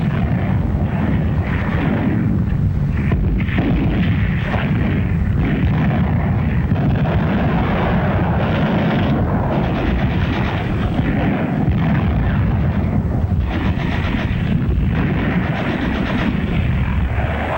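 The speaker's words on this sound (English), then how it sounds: "this assault engineer knows exactly where to put his high explosive charge in order to destroy the blockhouse" A high explosive charge destroys a concrete blockhouse in archival wartime footage, heard as a loud, dense, continuous rumble and roar with rough bursts throughout, no speech.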